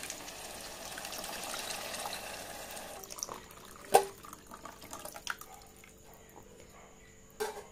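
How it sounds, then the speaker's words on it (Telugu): Buttermilk pours into a pot with a soft liquid trickle, followed by quiet drips, splashes and a few light clatters, faint and close. "డైరెక్ట్గా ఓన్లీ మజ్జిగ మాత్రమే వేస్తున్నాను అన్నమాట"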